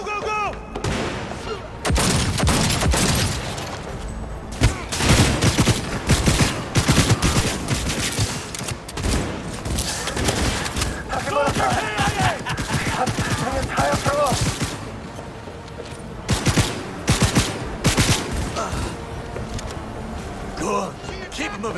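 Rapid automatic gunfire and bursts in a firefight in the video game Cyberpunk 2077, loud and continuous with brief lulls, under shouted voices and game dialogue.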